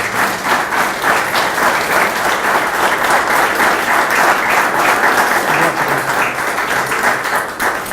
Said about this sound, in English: Let's please give Nick a round of applause.